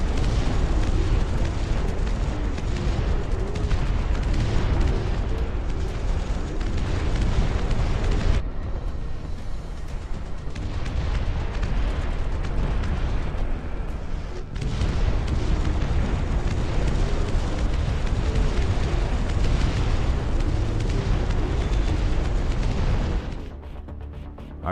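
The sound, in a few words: airstrike explosions in the Dust Front RTS video game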